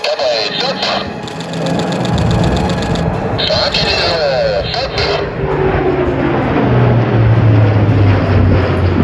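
An Airbus A400M military transport aircraft roars past during a tactical air show display with a heavy propeller engine drone that swells and shifts in pitch, loud and close, continuing throughout.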